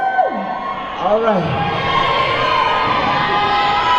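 A crowd at a Tahitian dance competition cheers and whoops loudly and continuously, with a voice speaking briefly and shouted calls rising over the sustained roar.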